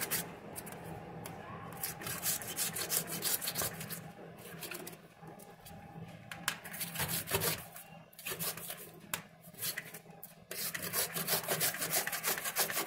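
Fresh turmeric root being grated for pickle, a steady rhythmic rasping scrape repeated stroke after stroke close up, fairly quiet and without talk.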